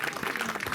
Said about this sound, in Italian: un applauso a Boni Argiolas.